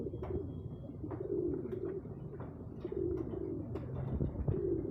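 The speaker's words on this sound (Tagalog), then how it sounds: "papaligo tayo sa ating alagang kalapate" Pet pigeons coo softly in a low repeated rhythm while bathing, with faint splashes and a few brief chirps close by.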